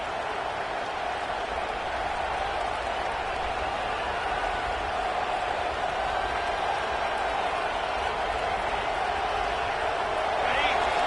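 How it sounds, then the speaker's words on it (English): Crowd noise at a college football game in a stadium, a sustained roar that swells slightly near the end, with commentators talking over it. "This crowd is trying to inspire this defense to make a big red zone stop."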